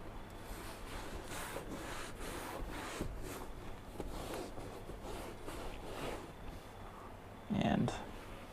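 A microfiber cloth wipes a car's leather interior during detailing, with quiet repeated rubbing strokes at close range and a brief louder bump near the end.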